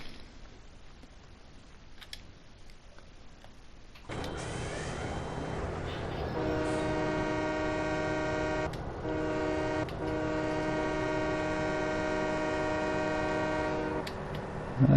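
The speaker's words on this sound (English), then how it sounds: "I guess he's saying thank you with the horn." A train horn in the Farming Simulator 17 video game blows in a long, loud, sustained blast after a short stretch of quieter rumbling, with a brief break partway through.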